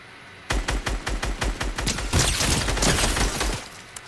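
Rapid gunfire in Fortnite, a steady burst of close, loud shots that grows into overlapping automatic fire for about three seconds, then stops.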